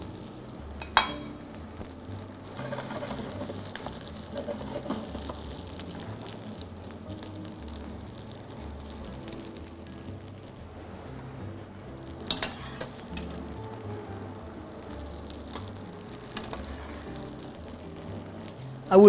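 Precooked cannellini beans fry in chili-flavored oil, giving a steady close sizzle with occasional stirring scrapes and clinks.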